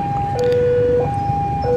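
A railway level crossing warning siren on a double-track line in Purwakarta, Indonesia, sounding as a steady two-tone electronic wail that alternates high and low pitch, loud and continuous over traffic rumble.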